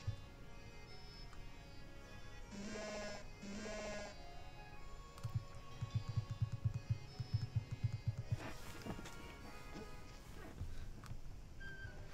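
A Miltank Pokémon cry from the video game Pokémon Ultra Sun: two short, harmonic bleating moo calls, then a rougher lowing burst, all set over steady game music with no talk.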